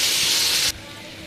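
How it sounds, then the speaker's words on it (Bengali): Potatoes fry in hot oil with turmeric and salt, giving a loud, dense sizzle that cuts off abruptly after under a second and leaves a quieter background hiss. "এখন আলুগুলিকে হলুদ লবণ দিয়ে ভেজে নিচ্ছি।"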